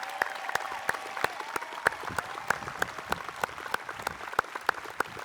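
Audience at the 2019 North Paulding High School graduation applauding the school staff, a moderate, fairly steady round of clapping with a few sharp individual claps standing out.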